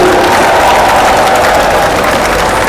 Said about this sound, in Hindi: एक बार मैं तालियां चाहूंगा आपकी तरफ से भी।